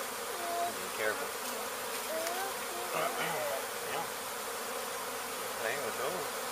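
A honey bee swarm being removed in Weslaco, Texas, buzzing steadily and close, with several individual bees whining past.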